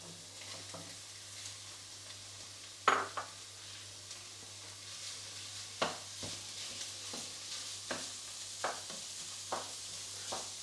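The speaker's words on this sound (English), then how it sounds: "Break up the mince with a spatula and cook this gently until the meat is no longer pink." Mince meat sizzling gently in a pan as a spatula breaks it up, with a steady frying hiss under occasional scraping and knocking strokes against the pan, close and moderate.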